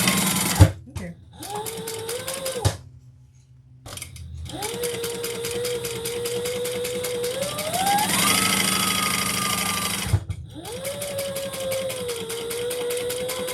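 A sewing machine whirs in sustained runs while basting fabric for a bag, its motor pitch rising and settling with each stitching burst, separated by short pauses, and a voice talks alongside.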